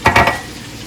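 Three quick sizzling bursts as grease hits a hot pan, each flaring loudly then fading into a soft, steady crackle.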